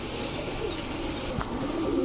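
Orange pigeons with stone-coloured eyes, kept at a pigeon farm, coo softly and steadily over a constant background hum, with no speech.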